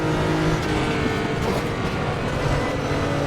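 Nissan GT-R GT3 race car engine from the racing game RaceRoom at the Nordschleife, a steady loud engine drone with gear and revving changes and no talk.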